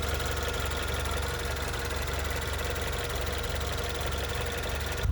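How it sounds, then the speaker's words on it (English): A 2016 Range Rover Evoque engine runs at a steady idle, a continuous low rumble and hum with slight knocking texture, close and unbroken throughout with no voices. "All right, now I'll take you out and show you the condition of the motor. Okay, with the motor running."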